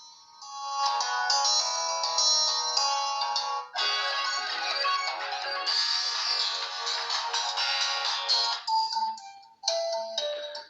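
A ringtone plays through the single bottom speaker of an Infinix Note 8i phone, a bright, continuous electronic melody filling about ten seconds, loud and close, with brief pauses near the end and no voices.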